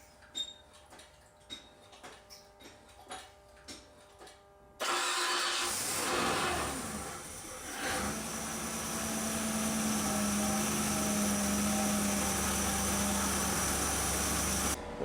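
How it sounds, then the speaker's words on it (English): Several faint clicks and ticks, then a carbureted engine cranks and catches at once, roaring loudly before dropping into a steady, rumbling idle that continues to the end. "Let's go start the engine, we'll warm it up"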